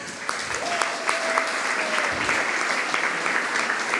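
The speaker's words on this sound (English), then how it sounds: "So, big applause." Sustained audience applause at a startup awards ceremony after certificates are handed out, a dense steady wash of clapping from a crowd filling the room, with a brief tonal whistle-like sound midway.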